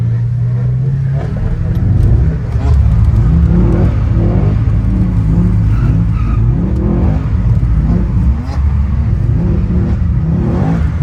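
A car engine roars loudly and continuously, with its pitch rising and falling as it revs, heard close and without a break.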